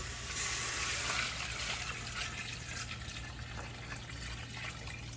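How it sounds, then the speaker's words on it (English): Water pours steadily into a pot of brown stew chicken, a continuous close splashing rush with a low hum underneath that eases slightly toward the end. "add the water"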